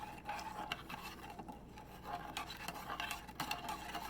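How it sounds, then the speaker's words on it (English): Lye being stirred into goat milk, with a spoon scraping and rasping against the container in repeated soft strokes, close and fairly quiet. "I'm gonna try and stir it here until it dissolves"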